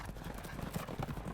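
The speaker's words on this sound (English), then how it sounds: "Horses." Horses clip-clop in a quick, uneven run of hoof hits, close and fairly loud, with a voice faintly mixed in beneath.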